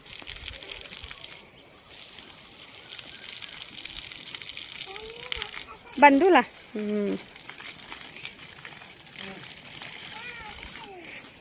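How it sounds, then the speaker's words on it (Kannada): Water is sprayed and splashes in short gushing bursts against a quiet outdoor background, loudest in the middle, while children and adults speak and call out nearby. "ಇಬ್ರಿಬ್ರು ಕೂಡಿ ನೀರು ಹೊಡಿಲಿಕ್ಕೆ ಬಂದಾರಲ್ಲಿ."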